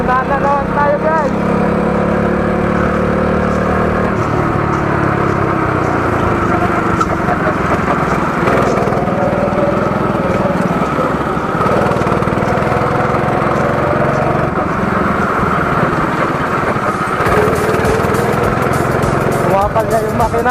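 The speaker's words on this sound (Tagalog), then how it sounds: "Kumapal na yung makina." A go-kart's small engine runs steadily on a race track at Kart City in Tarlac, a loud, continuous buzzing drone with shifting pitch throughout, with voices talking over it.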